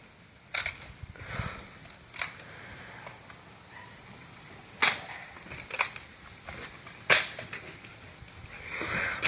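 Nerf blasters, an Elite Stormgarm and a Mega Thunderbow, fire foam darts and arrows in a backyard-style Nerf war, as a series of sharp, separate pops and snaps spaced a second or two apart over quiet background.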